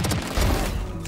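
Rapid gunfire bursts during a round of the video game Valorant, a dense volley of close, loud shots filling the brief moment.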